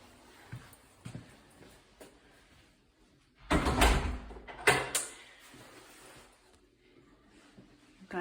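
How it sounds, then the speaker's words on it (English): A house's front door opens with a short burst of rattling and bumping, followed by a second knock, amid quiet room sound. "So coming in the front door"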